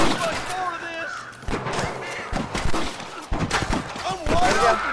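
Gunshots in the Western video game Red Dead Redemption crack out in a handful of sharp bursts amid a busy game soundtrack, while people talk loudly over the action.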